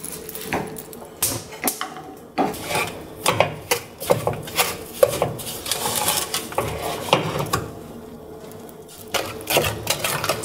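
Thick sweet red bean jelly mixture is stirred in a pot, giving repeated knocking and scraping strokes against the pot in an uneven rhythm, close and moderately loud.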